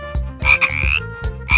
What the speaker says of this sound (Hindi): ये टर्र टर्र की आवाज करता है और मच्छर खाता है